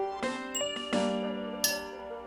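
Big metal bells clink and ring in a few separate strikes, each leaving a sustained shimmering tone that overlaps the next, close and fairly quiet.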